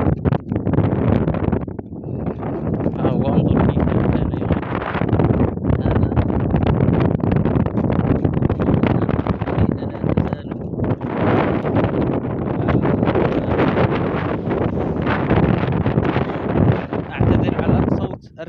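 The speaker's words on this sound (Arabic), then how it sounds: "الرياح،" Strong outdoor wind buffets the microphone in a continuous loud roar with gusty swells and brief dips, while a voice speaks underneath.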